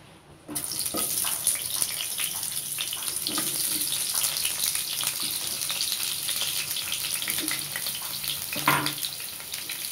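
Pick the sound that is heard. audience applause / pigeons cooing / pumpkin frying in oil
pumpkin frying in oil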